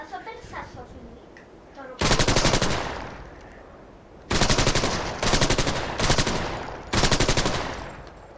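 Automatic weapons firing in the VR shooter game Crossfire: Sierra Squad, several loud sustained bursts of rapid gunfire separated by short pauses, with lighter clicks and handling noises between them.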